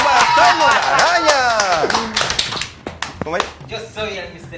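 An audience claps for a band member during a lively show, sharp scattered claps mixing with excited voices, loud and near at first and then thinning into a few separate claps.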